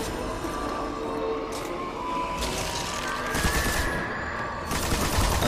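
Bursts of automatic machine gun fire in the Destiny video game, dense rattling volleys that start and stop over a few seconds against a busy battle background, with no voices.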